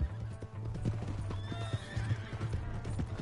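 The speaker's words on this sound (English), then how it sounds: "That's my horse." A horse in a video game gallops with rapid, rhythmic hoof clops and lets out a shrill neigh midway, all close and prominent over a low rumbling background.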